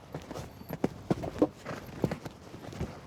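Horse hooves thud and clatter unevenly on the ground during a show-jumping exercise over poles, with light, scattered strikes at close to moderate distance and no talk.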